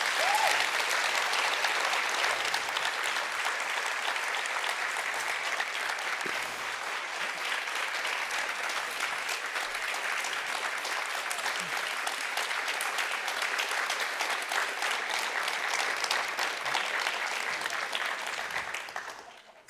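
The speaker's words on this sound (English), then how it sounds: "That was a very long and warm applaud." Long, warm audience applause at a museums and climate-change event, steady dense clapping from a large crowd that holds strong for nearly twenty seconds before tapering off at the end.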